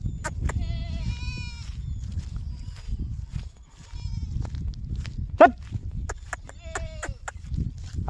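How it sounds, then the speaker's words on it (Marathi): Several goats bleat at intervals, fairly close, with a constant low rumble of ambient noise underneath and a brief sharp knock partway through. "शेळ्या जरा अलीकडं आणतो"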